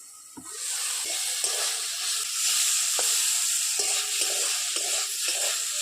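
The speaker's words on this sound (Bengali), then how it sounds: "বারে বারে ঢাকা দিয়ে ভেজে নেব।" Drumstick flowers frying in hot oil in a covered pan, a steady close sizzle and hiss with soft clinks of stirring or the lid at intervals.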